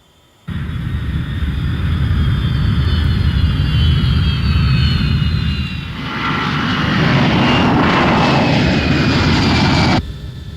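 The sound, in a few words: airplane in flight at cruising altitude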